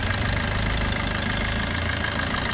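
A 2013 Maruti Suzuki Ertiga VDI diesel engine idles steadily with a low, rumbling knock that holds constant throughout, close and fairly loud, with no voices.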